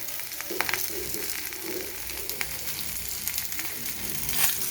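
Whole spices, including bay leaf and black cumin, crackle and sizzle in hot oil, a continuous close frying hiss with scattered pops and occasional stirring.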